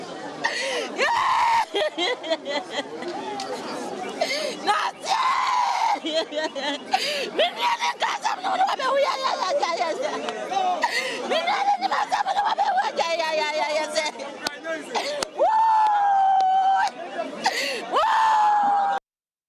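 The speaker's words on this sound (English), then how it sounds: "But you can see the wailing crowd, people who have lost their relatives." A grieving crowd after a deadly protest clash in Ejura, Ghana, wails, sobs and cries out in overlapping voices, loud and close, with high keening cries near the end.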